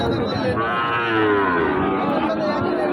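A tall, long-bodied cow at a busy cattle market gives one long, loud, drawn-out moo close by, with the crowd murmuring faintly underneath.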